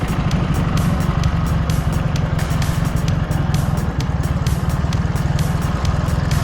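A Dnepr MT 11 motorcycle on knobby cross tyres churns through a forest swamp, its engine loud and close with a fast, even rhythmic throb and a steady low drone.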